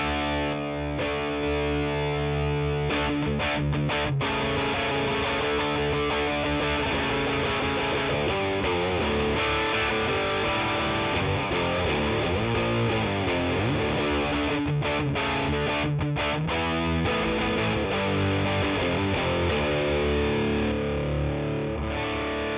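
Electric guitar with a humbucker played through a TC Electronic Spark Mini clean boost into a drive pedal gives a continuous, loud, crunchy distorted tone with chords and riffs ringing out for the whole stretch.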